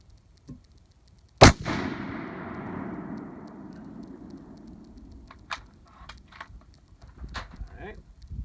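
A single sharp 7mm-08 rifle shot firing a 140 grain bullet cracks loudly nearby, then rolls away in a long fading echo, followed by faint clicks and shuffling outdoors.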